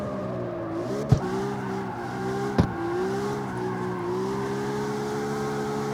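A Toyota Supra drifting in CarX Street gives a steady engine whine with its pitch rising and falling, a thin tyre squeal laid over it, and two sharp clicks cutting through.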